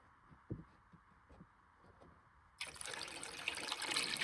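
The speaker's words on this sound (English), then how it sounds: "time to fill up her coolant and see how she does." Plain water is poured into the cooling system of a V8-swapped Mazda RX7, starting with a few soft glugs and drips, then becoming a loud, steady splashing pour for the final stretch.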